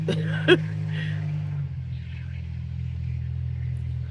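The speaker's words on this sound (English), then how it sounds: "That's a noisy truck, boy, I tell you." A noisy truck rumbles past a carport where a car camper is packing, its deep, steady engine drone filling the whole stretch and easing slightly partway through, with a brief faint sound near the start.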